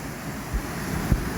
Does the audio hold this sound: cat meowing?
no